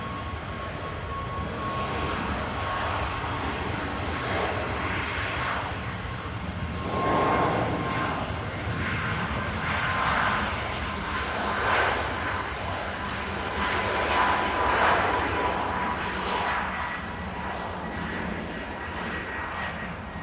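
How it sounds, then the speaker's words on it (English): A Ryanair airliner takes off at Manchester Airport, its jet engines a sustained, distant-to-mid-range roar that swells and surges gently in waves as it rotates and climbs out. "Ryanair rotates. Climbs out."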